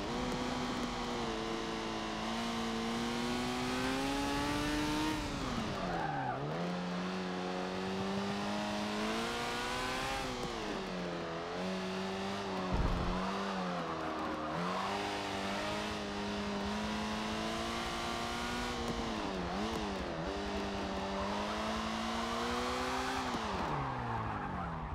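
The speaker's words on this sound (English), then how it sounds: "Barely stepped on the gas and it spun me completely around." A race car in Forza Motorsport 7 loses grip and spins out, its engine revving and swooping up and down in pitch while tires squeal and skid, loud and continuous with repeated throttle surges.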